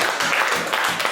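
Applause from a church congregation at a Women's Day service, a dense steady patter of many hands filling the short moment, moderately loud and even, with no voices over it.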